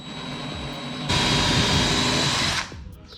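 A power drill bores out a rivet in an aluminum jon boat, a steady whining drone that starts abruptly, holds loud for about a second and a half, then stops.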